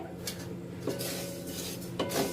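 Vermicelli toasting in a spoonful of ghee over low flame, stirred continuously; soft scraping of a utensil against the pan with a couple of clinking knocks, quiet and close, over a low steady hum.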